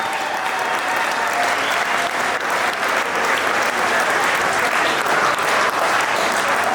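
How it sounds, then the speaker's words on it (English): A crowd at the Racewars 2020 car event breaks into sustained, dense applause for the Grand Champion, steady loud clapping filling the space throughout with scattered cheers mixed in. "One final round of applause for Mr. Jonathan Murray."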